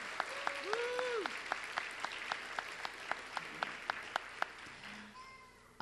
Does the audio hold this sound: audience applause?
yes